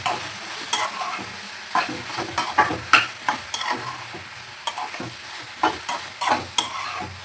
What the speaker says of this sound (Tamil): கத்திரிக்காய் நல்லா வதங்கும்போதே பாதி வதங்கும்போதே இந்த முருங்கைக்காயும் போட்டுக்கணும்.